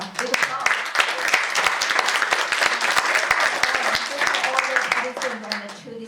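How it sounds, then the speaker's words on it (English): An audience at a VIP luncheon on public health claps loudly and steadily, a dense burst of applause that fades slightly near the end, with voices mixed in. "Let's have a big applause."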